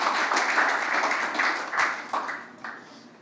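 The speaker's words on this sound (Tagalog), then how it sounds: "Sige po, malakas sa palakpak para sa Kanya" A church congregation applauds during a sermon, steady dense clapping from many hands that swells in bursts and then fades toward the end.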